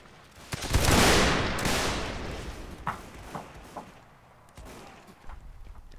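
A musket volley in the Mount & Blade Warband North & South mod erupts as a loud, dense burst of overlapping shots, rolling off over a couple of seconds. Scattered single musket cracks follow nearby and farther off.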